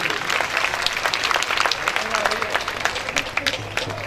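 Loud crowd applause at a Srimad Bhagwat Katha religious gathering in Agra, a thick and continuous clapping that rings out with sharp individual claps and a faint voice underneath.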